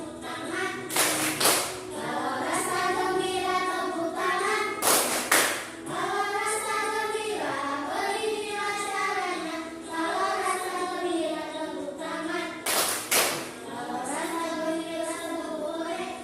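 Children clap their hands in time while singing the action song "Kalau Rasa Gembira Tepuk Tangan" in a classroom, with several sharp bursts of claps standing out over the sung melody.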